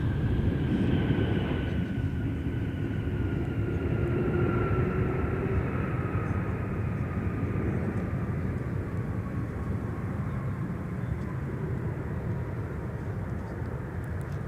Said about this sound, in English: DC-10 cousin. Boom. Touchdown. with that extra landing gear in the back.